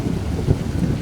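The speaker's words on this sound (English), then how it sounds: "Thunder roared over me and rain came down in sheets." A thunderstorm breaks over a woodland camping spot, with heavy rain pouring down and a deep, continuous rumble of thunder, loud and close, with a slightly stronger roll near the middle.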